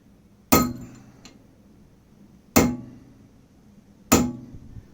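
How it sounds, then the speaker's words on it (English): Three sharp metallic hammer strikes on a punch into a driveshaft axle keyway of a Mini Cooper R50, evenly spaced about two seconds apart, each ringing briefly before fading; no voices. "You want to get a punch and then put it on top, and then just hammer that in."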